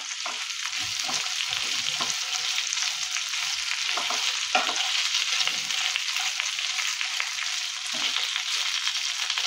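Onions frying in a pan for a broccoli stir fry, a steady close hiss of sizzling oil with soft scraping stirs breaking through now and then.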